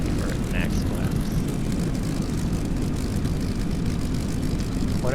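A Bf 109 fighter in a flight video game coming in to land with flaps down, its propeller engine droning steadily and evenly throughout, loud and constant, while someone talks over it.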